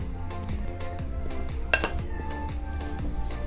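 Flour being mixed with salt and chilli powder in a metal bowl for Bengali gola ruti batter, heard as a steady run of close scraping and clinking of a utensil against the bowl, with one brighter clink midway.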